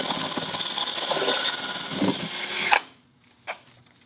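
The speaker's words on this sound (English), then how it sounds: "Again, we will insert our tapcon screw." A power drill drives a Tapcon screw into concrete while mounting a crawlspace fan, with a close, loud, pulsing whir that stops abruptly, followed by a brief faint click.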